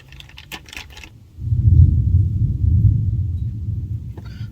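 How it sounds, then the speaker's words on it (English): Low, rolling thunder swells from a storm brewing in the wet season in the Northern Territory, a broad rumble that rises after a second of light clatter and holds steady for several seconds. "Not sure if you can hear that. There's a storm brewing."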